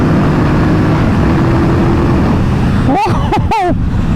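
Triumph Bonneville Bobber motorcycle engine rumbling steadily at close range, then two quick throttle blips that rise sharply and fall away near the end.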